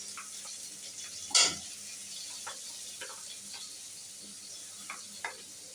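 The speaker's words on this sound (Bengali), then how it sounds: "তো চিংড়ি মাছগুলো 3-4 মিনিট ভেজে নিয়েছে, এখন এর মধ্যে মশলা দিয়ে দেবো।" Prawns fried with onion paste, garlic paste and green chillies sizzle gently in a pan, with a sharp scrape of a spatula and scattered light clicks of stirring over a steady, close frying hiss.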